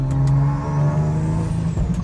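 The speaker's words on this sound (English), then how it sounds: "Shifting gears, hearing the turbo." Turbocharged Infiniti G37 engine pulling hard through gear changes, a loud steady drone with a dip and shift near the end, continuous and close with no talking.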